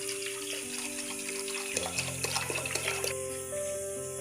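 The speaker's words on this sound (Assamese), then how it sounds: "এতিয়া পানী দিছোঁ ইয়াত মই।" Water streams from a tap into a pressure cooker holding lentils, a close, steady running pour whose tone shifts as the pot fills.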